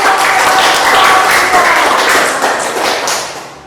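A school class applauds together after a group presentation, a dense burst of hand clapping that holds steady and then slowly tapers off.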